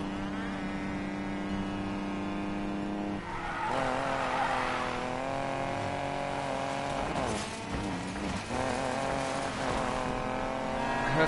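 Rival race car in Need for Speed Payback, a more powerful front-wheel-drive street racer, its engine droning steadily with loud tire squeals and skids surging midway and near the end.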